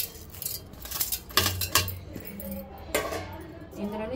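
Toor dal is poured into a mixer jar with dried red chilies already inside, giving light clinking, rattling and knocking of the jar and utensils at close range, with some handling noise.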